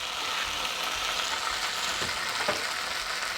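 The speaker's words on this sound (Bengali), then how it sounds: "তারপর আমি পেঁয়াজ আর কাঁচা লঙ্কাটাও দিয়ে দিলাম। দিয়ে এটা মিনিট 5-7 ভালো করে ভাজতে হবে।" Onion and green chilli fry in a pan for a borboti (yardlong bean) paste, giving a steady, even sizzle throughout with a couple of faint utensil clicks near the end.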